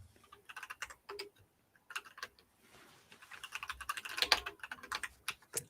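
Rapid, uneven clacking of keys on a loud mechanical keyboard, close and fairly quiet, with bursts and short pauses and no voices.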